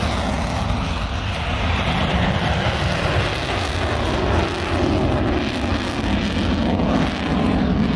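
An F-22 Raptor fighter jet roars overhead in a steady, loud, broadband engine rumble that holds unbroken for the whole stretch, with no voices.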